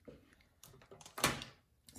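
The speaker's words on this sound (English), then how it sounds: "the wind's blowing the door" A door pushed by the wind in a snowy glen, rattling and thudding faintly with one sharper knock in the middle against quiet background.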